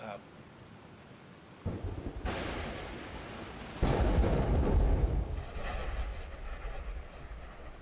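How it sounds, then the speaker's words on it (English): A loud thunder crack bursts in after a quiet start, a second heavier boom follows with deep rolling rumble that trails off slowly, rain-like hiss underneath, no voices. "broken by a sudden crack, loud crack, of thunder as a bolt of lightning snaps off"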